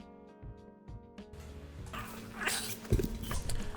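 A dog barks and yelps a few times close by amid household noise and a faint tonal hum, the barks growing louder and busier toward the end.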